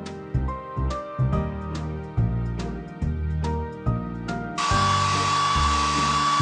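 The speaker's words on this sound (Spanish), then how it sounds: "Toca el secador de pelo para secar el pelo del cachorro." In a PAW Patrol Android game, a cartoon hair dryer switches on to dry a puppy, a steady whirring hiss that starts abruptly after a few seconds of bouncy game music and stays constant to the end.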